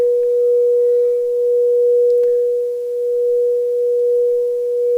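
Crystal singing bowl tuned to 432 Hz, a single steady pure tone ringing on with a gentle slow pulsing swell, close and moderately loud, with a faint brief tap partway through and no voices.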